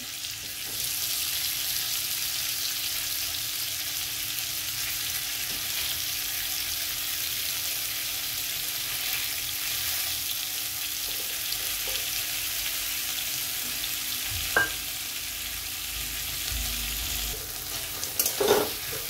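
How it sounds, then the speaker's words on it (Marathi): Khoa (milk solids) crumbled into a hot kadhai over very low flame, melting with a soft steady sizzle and faint scraping as it is stirred, with a few sharper spoon knocks near the end and no talk. "आता आपण याला चांगलं खव्याला वितळून घेऊ"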